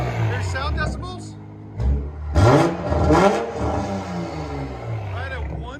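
A Toyota Supra GR 3.0L inline-six with a straight-pipe exhaust revs up sharply in a couple of loud bursts, then settles into a rumbling idle, with a voice talking over it.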